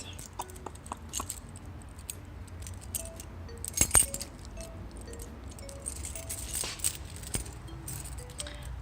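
A large bunch of keys jangles and clinks in a couple of close, bright bursts near the middle, with lighter metallic rattles scattered through a quiet indoor room; no one speaks.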